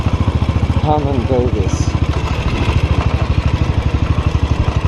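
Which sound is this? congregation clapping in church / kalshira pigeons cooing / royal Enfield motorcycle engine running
royal Enfield motorcycle engine running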